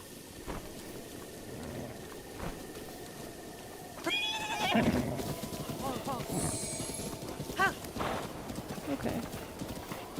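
Horse hooves clip-clop and a horse whinnies in the video game Stardew Valley, with game music and a steady background; the hoof sounds and a whinny rise midway, fairly close, under a person's talk.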